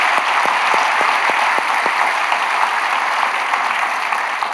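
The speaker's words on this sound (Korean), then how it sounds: "우리 박수를 한번 격려하도록 하겠습니다." A church congregation applauds after a soprano sings, giving a steady, full wash of clapping from many hands that carries evenly through the clip, with a few sharper individual claps near the start.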